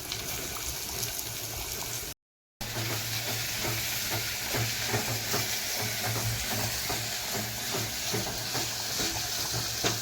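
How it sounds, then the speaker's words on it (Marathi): Onions fry in a pan for a prawn biryani gravy, a continuous close sizzle with rhythmic stirring scrapes and some bubbling liquid, broken by a brief gap of silence near the start. "आपल्या ग्रेव्हीसाठी कांदा आता आपण फ्राय करून घेणार आहोत"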